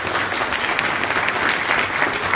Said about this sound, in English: could you please applaud them?